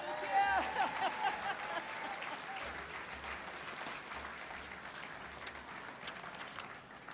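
Awards-ceremony audience applause for Diane, a dense, steady patter that starts strong and slowly thins, with a voice speaking over it near the start.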